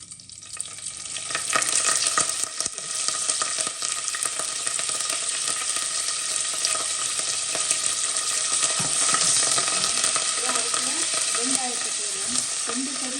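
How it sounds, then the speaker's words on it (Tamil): Steady crackling sizzle of cumin, fenugreek and curry leaves frying in hot oil, close and continuous, with occasional stirring scrapes toward the end. "சீரகம், வெந்தயம் எல்லாம் போட்டு கருவேப்பிலை எல்லாத்தையும் போட்டு முதல் தாளிக்கிறோம்"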